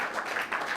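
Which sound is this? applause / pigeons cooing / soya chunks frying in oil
applause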